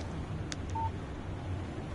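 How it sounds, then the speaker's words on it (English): A phone text message alert from the video game Alan Wake Remastered gives a couple of faint quick electronic blips and a short soft tone, over a low steady background hiss with no talk. "Text message from Barry."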